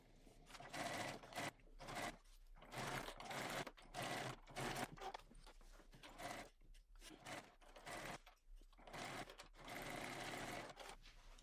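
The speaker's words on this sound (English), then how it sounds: "I'm gonna head to my sewing machine and using a 1/2-inch seam allowance again" A sewing machine runs in bursts while stitching a seam with a half-inch allowance on a bag, each rapid whirring run stopping briefly before starting again, close and fairly quiet.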